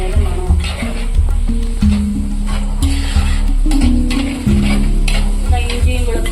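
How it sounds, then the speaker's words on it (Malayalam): Ginger, garlic, shallots and curry leaves fry loudly in a pan for a fish-head curry, a dense close sizzle under continuous spatula stirring and scraping, with occasional tonal clinks. "ഇഞ്ചിയും വെളുത്തുള്ളിയും ചുവന്നുള്ളിയൊക്കെ നല്ല കറിവേപ്പിലയൊക്കെ നല്ല മൂത്ത് നല്ല അടിപൊളിയായിട്ട് നല്ല മൂത്ത് വന്നിട്ടുണ്ട്"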